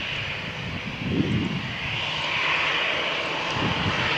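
An Air France Airbus A319-111 jet airliner at Malaga Airport on a stormy morning produces a steady, loud engine roar with a broad rushing hiss, holding constant throughout.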